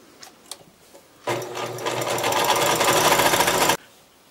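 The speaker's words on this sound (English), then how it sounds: "I'm going to do another 1/4-inch seam down the side." A sewing machine runs a quarter-inch seam along fabric scrap strips for Christmas tree ornaments, a steady close whirring hum lasting about two and a half seconds after a few soft handling clicks.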